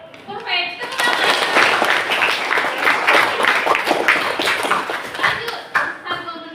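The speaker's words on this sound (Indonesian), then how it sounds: "Tepuk tangan." Classroom of young students clapping together in a burst of applause, loud and close, with children's voices and chatter mixed through it.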